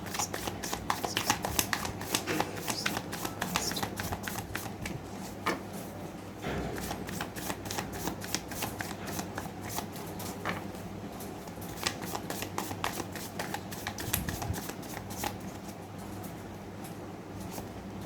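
Tarot cards shuffled continuously in a long run of quick, crisp riffling flicks, close and steady, with a faint hum underneath and no speech.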